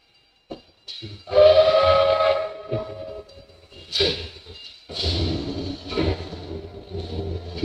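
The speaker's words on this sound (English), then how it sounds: "The train goes by." A train passes near a bridge, rumbling loudly with several long whistle blasts rising and falling over about eight seconds, no speech.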